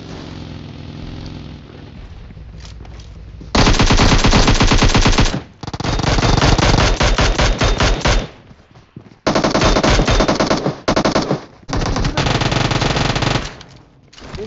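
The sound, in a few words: gunfire in the video game PUBG Mobile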